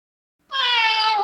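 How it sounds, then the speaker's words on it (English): A single close, clear cat meow, one sustained tonal cry starting after a brief silence and holding to the end. "That cat is on mic."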